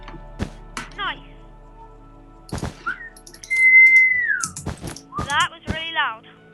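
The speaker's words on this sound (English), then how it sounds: "I don't care because I like whistling." A person whistles several short sliding and warbling phrases, close and fairly loud, with a long steady held note in the middle, between a few sharp thumps and clatters from building work.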